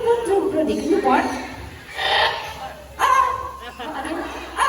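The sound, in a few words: person imitating a dog barking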